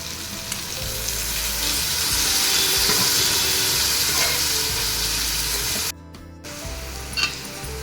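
Boiled black-eyed peas (karamani) sautéed with rice in a hot pan give a loud, steady sizzle with stirring, briefly dropping away near the end before resuming.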